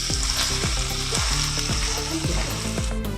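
Stir fry with sauce being stirred in a pan, a steady close sizzle with a series of repeated scraping strokes from a utensil, roughly one every half second, with no talking.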